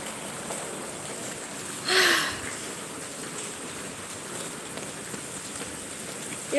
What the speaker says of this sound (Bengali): এখানে একটু বৃষ্টিটা কমছে